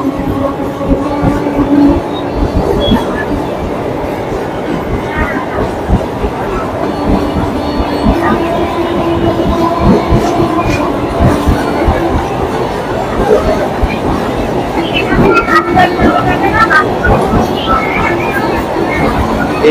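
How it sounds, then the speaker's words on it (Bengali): A train rolls past on an overhead railway line above the Jagannath temple in Kidderpore, Kolkata, a loud continuous rumble and clatter lasting throughout, with crowd chatter underneath. "উপর দিয়ে চলে যাচ্ছে ট্রেন।"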